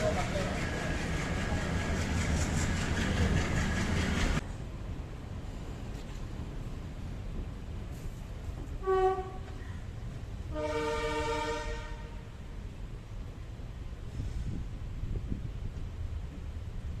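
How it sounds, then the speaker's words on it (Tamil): Kollam to Punalur train departing, its horn sounding twice as a clear harmonic blast around the middle, after loud rumbling station and engine noise that cuts off early. "ஷார்ப்பாக 10:20க்கு நம்மளோட ட்ரெயின் எடுத்து மூவ் ஆகி போய்கிட்டே இருக்கோங்க"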